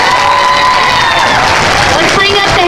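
School audience at a Locks of Love hair-cutting event bursts into loud, sustained applause mixed with cheering and whoops, filling the room continuously with voices in the crowd.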